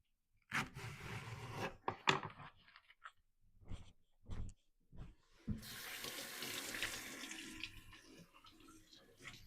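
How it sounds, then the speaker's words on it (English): Halved leeks are handled and rinsed at a kitchen sink, with a few short bursts of tap water and clattering at first, then a continuous stream of running water from the faucet. "Split them in half and give them a wash."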